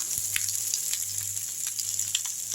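Garlic sizzles gently in hot oil in a pan while being sautéed for a curry leaf garlic pickle, a steady close frying hiss with a few small pops, no voices.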